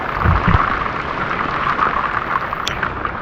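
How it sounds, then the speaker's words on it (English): Light rain falling steadily on a Florida river and overhanging trees, a dense even patter with a few low thumps near the start, no voices. "It's raining a little bit."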